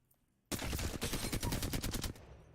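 Flatline rifle in Apex Legends firing one sustained automatic burst of about a dozen rapid, loud cracks that stops abruptly after under two seconds.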